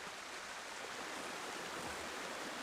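Water pours off the edge of a large tipping bucket in a constant, close, rushing splash that runs without a break and with no voices.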